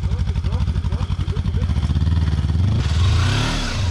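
A Yamaha Tenere 700 motorcycle climbs a steep off-road hill, the engine throbbing in pulses and then revving harder as the throttle is held on, loud and close with wind noise building near the end.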